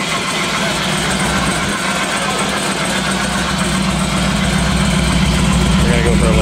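A 1934 Ford Coupe with a 765 HP EFI big-block Chevy engine and roller valvetrain idling nearby, a loud, steady, lumpy rumble that holds throughout.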